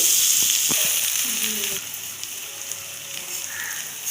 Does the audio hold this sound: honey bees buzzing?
no